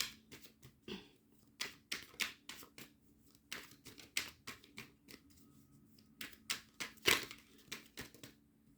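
Tarot cards being shuffled and pulled, soft papery riffles and crisp slaps repeating in an irregular rhythm, close and quiet with no talking.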